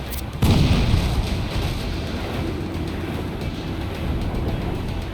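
Ship cannons boom in a naval battle in Assassin's Creed IV: Black Flag, a loud blast near the start followed by a sustained rumbling roar of battle noise and water, with no talk.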